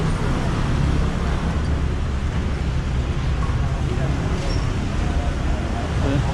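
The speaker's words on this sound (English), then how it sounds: "So a lot of buses go down this one" Buses and traffic on a main street in Macau make a dense, constant roar of engines and tyres, close and loud, while someone talks over it.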